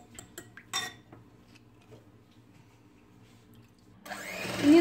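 Red velvet cupcake batter is stirred in a bowl, with ingredients such as vanilla essence and red food colouring, giving scattered clinks and scrapes that settle into a quiet stretch before a louder, rising whir near the end.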